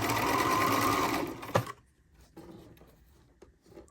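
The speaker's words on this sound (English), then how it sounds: "while you're stitching the picot onto this edge" A sewing machine runs steadily for about a second and a half, stitching a picot edge onto a wireless bra, then stops abruptly, leaving faint handling sounds.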